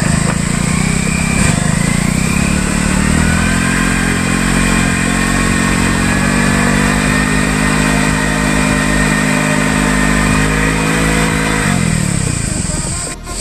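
A Hero Splendor BS6 motorcycle revs hard and steadily while doing a burnout in dirt. The engine drone is loud and close, held with little change for about twelve seconds before cutting off, and no one speaks.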